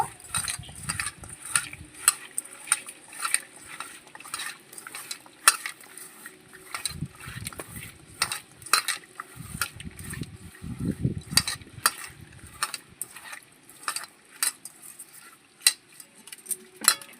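Ground mustard and poppy seed paste being mixed with water in a bowl for a fish dish, wet squelching and sharp clinks of a utensil against the bowl in irregular bursts, close and alone.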